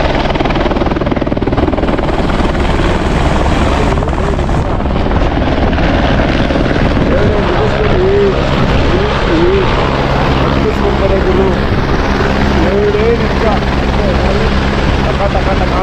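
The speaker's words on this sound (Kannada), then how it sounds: "ಹೆಲಿಕಾಪ್ಟರ್ ಬರ್ತಾ ಇದೆ, ನಿಮಗೆ ತೋರಿಸ್ತೀನಿ." A helicopter arriving at Kedarnath in the mountains gives off a loud, continuous rotor thump and engine drone throughout, as people nearby talk under it.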